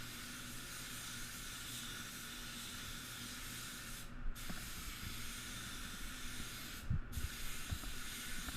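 Continuous spray gun hiss in a paint booth as several colour coats go onto a previously primed car bonnet, a steady broadband spray with two short pauses between passes.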